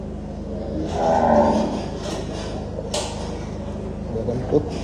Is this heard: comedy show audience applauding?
no